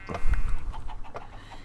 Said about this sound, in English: Alright, we've got our sand chicken.